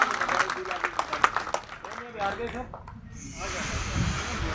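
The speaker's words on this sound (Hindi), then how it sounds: "सर के लिए जोरदार एक बार और तालियों स्वागत करिए" Applause greeting a guest at a Delhi Home Guard welfare association meeting: a dense burst of clapping under a voice on a microphone that fades out, followed by steady hiss.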